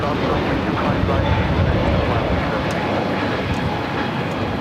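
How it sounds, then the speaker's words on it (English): A Frontier Airbus A321neo jet takes off from LAX with a loud, continuous engine roar that fills the air, while a voice talks over it. "This is Wilhelm the Stellar's Eider livery taking off to Houston Intercontinental on the A321neo Frontier 1756."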